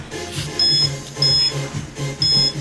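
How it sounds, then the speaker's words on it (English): A workout interval timer starts with three evenly spaced high electronic beeps, each about half a second long, over rhythmic background music. "Okay, let me start the timer."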